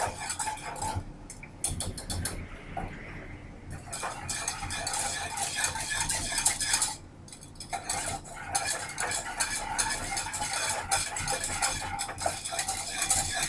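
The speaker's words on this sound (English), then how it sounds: "stir this up" Cookie mixture melting in a pot, stirred with a metal utensil: continuous close scraping and clinking against the pot with faint sizzling underneath, no voices.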